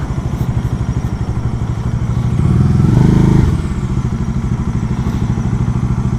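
A Bajaj Dominar 400 motorcycle engine chugs loudly and close in a rapid, even pulse, briefly revving higher in the middle before settling back.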